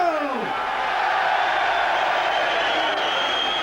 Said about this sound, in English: So the final applause then for Bruno